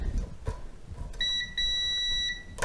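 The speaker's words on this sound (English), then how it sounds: "make sure that none of them beep" A continuity tester beeps in steady, bright tones while power supply wiring for a DIY Eurorack case is checked, the beeps sounding close and clear over faint handling noise.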